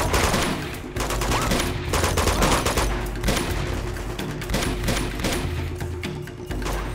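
Rapid gunfire in Uncharted 2: Among Thieves, a sustained fusillade of sharp shots and automatic bursts with irregular rhythm, fairly loud and continuous throughout.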